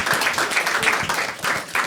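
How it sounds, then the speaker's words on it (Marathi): A crowd at a Marathi stand-up comedy show claps together for a fresh haircut look, a short burst of dense, close applause. "हो टाळ्या वाजवा एकदा याच्यासाठी"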